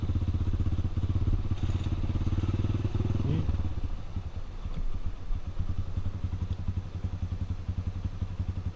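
A Tornado 293 cc motorcycle ridden on a dirt trail gives a steady, close engine drone throughout, with occasional clattering thumps over the ground.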